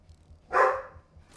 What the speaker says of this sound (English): He's an Australian cattle dog.